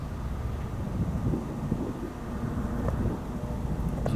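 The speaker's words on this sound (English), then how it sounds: "Here's the wind picking up." Gusting wind buffets the microphone on a disc golf course, a steady low rumble that swells and dips without pause, with no voices.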